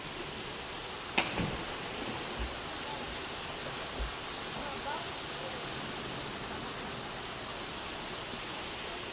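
Dense, unbroken roar of the Palsajingin waterfall heard from close by, a broad steady rush filling the whole clip, with a brief sharp knock near the start and a few soft thumps underneath.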